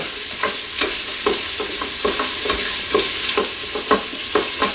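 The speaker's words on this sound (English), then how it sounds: "Let's give this a stir." Onions frying in a pot for chicken soup, with a steady sizzle and a spoon scraping through them in repeated, evenly spaced strokes, close and clear with no talking.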